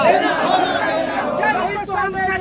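A crowd of DDT spraying workers protests in Gardanibagh, Patna. A loud, close wall of overlapping voices shouts and chatters continuously.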